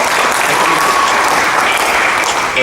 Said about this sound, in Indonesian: Kita beri tepuk tangan untuk beliau.